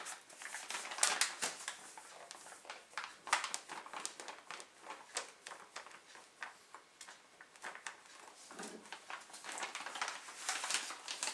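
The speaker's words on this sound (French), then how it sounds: "je vais mettre 100 g de farine de riz" Rice flour poured onto a kitchen scale while baking a vegan banana cake, giving a soft, continuous patter of dry granular ticks and light rustles throughout, close and fairly quiet, with no talking.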